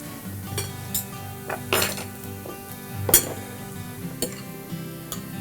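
A small fork clinks and scrapes against a dish of ginger stir-fry while eating, with several light, sharp taps spread irregularly over a few seconds at close range, no talking.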